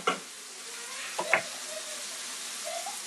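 Onions frying in a pan for dak bulgogi get stirred, with a couple of brief scraping strokes over a faint steady sizzle, quiet and close, with no voices.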